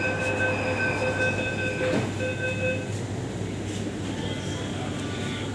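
A Delhi Metro train running from Anand Vihar toward Jafrabad rumbles along steadily with wheel hum, a few high squealing tones and occasional clicks, heard from inside the carriage.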